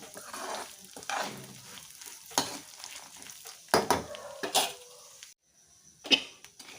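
Roasted gram stirred and frying in a pan: scraping strokes and crackly sizzles come in irregular bursts, with a brief quiet gap near the end.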